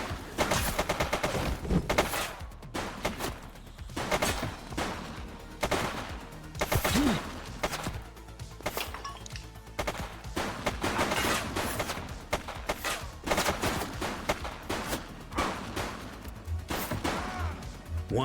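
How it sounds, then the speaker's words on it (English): Sustained video game gunfire in The Precinct, a police game, with dense bursts of rapid shots and impacts continuing loudly throughout, no voices over it. "He's shooting!"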